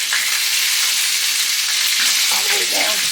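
Chicken frying on a stove over a strong flame, a steady loud sizzle and spatter with faint clinks of utensils near the end and no talk.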